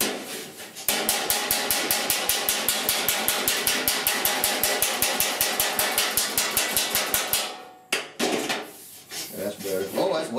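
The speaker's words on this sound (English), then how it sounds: "I'd use the pick hammer version to do it." A pick hammer shrinking sheet metal strikes in a fast, steady run of sharp metallic blows lasting about seven seconds, then stops briefly before a few rougher, scraping impacts follow.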